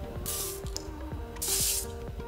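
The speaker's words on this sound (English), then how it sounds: "See how fine that spray is" Two quick, soft hissing bursts of a fine mist spray, close by, with faint clicks and handling noise between them.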